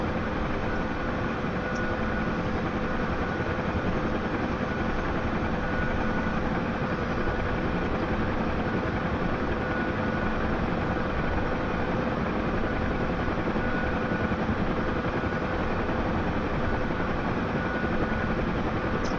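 A Huey helicopter flying low and hovering, its steady droning rotor and turbine roar constant and close throughout, with no talk over it.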